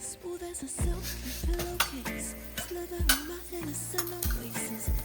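Fenugreek seeds pop and sizzle in hot oil in a pan while a spoon stirs and knocks against the metal in irregular clinks, close and moderately loud.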